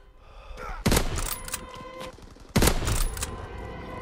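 Two booming lever-action sniper rifle shots from Call of Duty, "The Sheriff II," fire about two seconds apart, each a loud cannon-like crack with a long rolling tail over faint game ambience.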